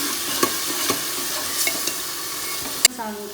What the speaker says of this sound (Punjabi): ਇੱਕ 2 ਮਿੰਟ ਆਪਾਂ ਇਸ ਨੂੰ ਐਨ ਚੰਗੀ ਤਰ੍ਹਾਂ ਇਸ ਦੇ ਵਿੱਚ ਪ੍ਰੋਪਰਲੀ ਭੁੰਨਾਂਗੇ